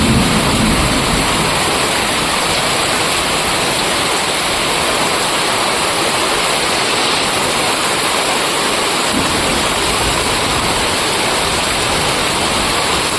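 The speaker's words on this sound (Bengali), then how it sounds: "প্রচণ্ড জোরে বৃষ্টি শুরু হয়ে গেছে" Heavy torrential rain pours down in a sudden storm, making a dense, loud, unbroken roar that holds steady throughout, with no speech over it.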